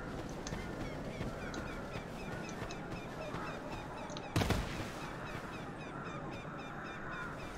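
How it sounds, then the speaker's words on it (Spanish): Seagulls call from the Dark Souls II game world over a steady ambient bed, with repeated squawks scattered throughout and a brief louder burst near the middle. "Las gaviotas que se escuchan ahí."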